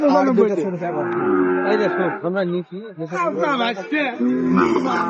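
Cattle low repeatedly at a busy livestock market in Joypurhat where Sahiwal bulls and calves are sold, the deep moos loud and close over a steady crowd murmur.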